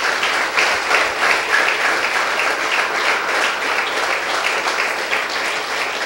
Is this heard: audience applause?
yes